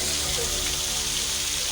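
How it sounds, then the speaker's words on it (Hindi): Water flows steadily through a dry, rocky valley strewn with dark debris, a continuous broadband rush that stays constant and fairly close throughout with no voices. "इस सियाह मलबे और खुश्क पथरीली वादी के दरमियान पानी का ये बहाव जिंदगी का एक खूबसूरत एहसास दिलाता है।"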